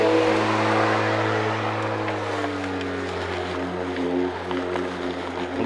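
A Stihl RMA 339 C battery lawn mower cuts grass at a 30 mm height, its electric motor giving a loud, steady whine close by that eases slightly lower in pitch as the load changes.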